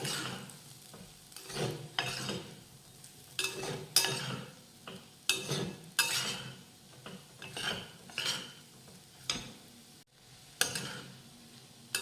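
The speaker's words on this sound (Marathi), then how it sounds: "तेल घातल्यानंतर मंद आचेवरच साधारण दोन मिनिटं आपण हे परतून घेऊयात" Vegetables stirred in oil in a pan over a low flame, with repeated scraping and clinking strokes of a spatula against the metal pan in an uneven rhythm over a faint background sizzle; no one speaks.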